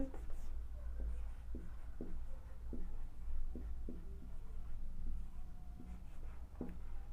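A pen scratches on paper in short, repeated strokes while a maths problem is worked, the faint writing sounds recurring in quick bursts beneath quiet background hum.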